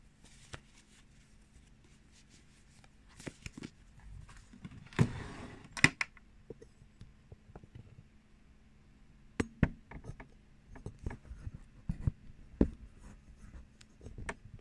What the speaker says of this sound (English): let me try to organize these cards a little bit here for you.